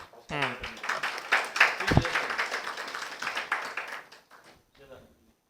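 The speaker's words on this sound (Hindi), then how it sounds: "बाकी दोस्त तालियां बजाएंगे" A crowd gathered for a certificate distribution at a Karachi hotel applauds in a dense burst lasting a few seconds, mixed with overlapping voices, then fades to quiet talk.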